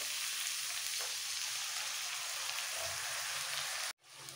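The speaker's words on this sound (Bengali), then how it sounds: "তেলের মধ্যে একটু নাড়াচাড়া করে এর মধ্যে দিয়ে দেবো সামান্য একটু জল" Bengali aloo dum potatoes sizzle steadily as they are stirred in hot oil, a loud continuous frying hiss that breaks off abruptly near the end, then returns softly.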